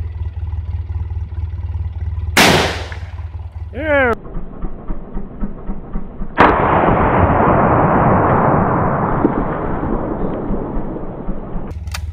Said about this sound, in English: Mosin, shoot low up close.